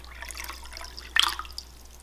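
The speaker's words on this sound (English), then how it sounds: "So first, gonna put the dye in." Blue dye pours from a container into a pot of plain water meant for dyeing wool, a brief close splash and trickle lasting about half a second over a faint low hum.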